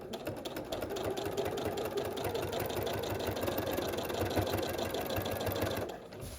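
A sewing machine stitching a quilt runs with a fast, even mechanical chatter for about six seconds, then stops abruptly near the end.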